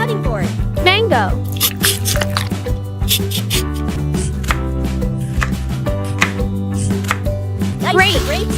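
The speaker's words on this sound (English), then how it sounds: "Slice the mango on the cutting board." Crisp knife chops of a mango being sliced on a cutting board in a miniature kitchen, repeated in a steady rhythm of close taps over continuous background music.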